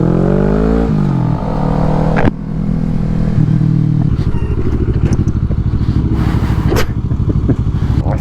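A motorcycle engine revs and then settles into a steady loud drone while riding on the road, with a gear change and rattling clatter layered over the close engine noise.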